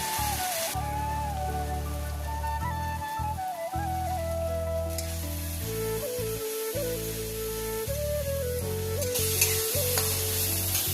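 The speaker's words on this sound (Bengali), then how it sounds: "বাটা মশলাটাকে ভালো করে কষিয়ে, মশলাটা একটু কষানো হলে" Ground spice paste sizzles steadily in a hot pan as it is fried and stirred for a meat curry, a continuous close crackle that lasts throughout, with a tonal hum or background music underneath.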